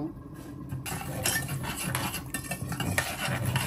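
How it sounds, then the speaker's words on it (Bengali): Semolina dry-roasting in a pan while a metal spoon stirs it, a busy run of close scraping and clinking strokes with a faint crackle underneath, no voices. "আমি সুজিগুলো ভালো করে ভেজে নেব"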